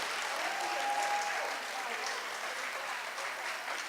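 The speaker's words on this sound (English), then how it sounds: "one last round of applause for our students graduating with honors" Steady applause from a school assembly audience honoring students graduating with honors, a dense, even patter of many hands clapping that holds for several seconds at a moderate, slightly distant level.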